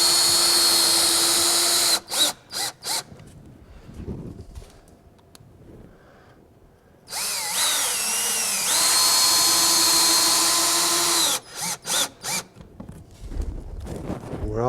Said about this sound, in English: We're going to use the toe screws through the top